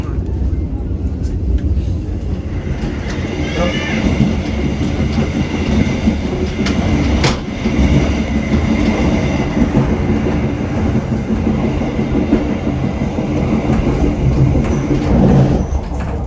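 An economy-class long-distance passenger train from Bandung to Surabaya rumbles steadily along the rails, with a constant low roar and faint rhythmic clatter throughout, recorded from inside a carriage.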